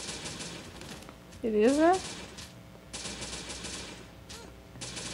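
Gunfire from a gun in the video game Jurassic Survival, several quick repeated shots running through most of the moment, with a short rising electronic tone near the middle and someone talking briefly.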